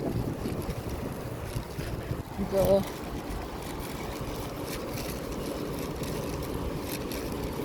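Strong wind roars and buffets the microphone continuously, with a brief voice speaking partway through.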